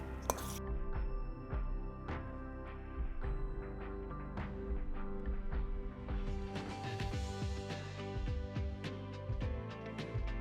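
Vinegar, olive oil and pepper being mixed in a bowl, with repeated clinks and taps of a utensil against the bowl in a quick irregular rhythm, close and fairly quiet, with faint background hum.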